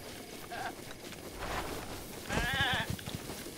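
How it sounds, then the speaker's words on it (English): A goat in The Legend of Zelda: Breath of the Wild gives a short, close bleat near the end, over soft ambient game noise and faint shuffling movement. "Excuse me, goat."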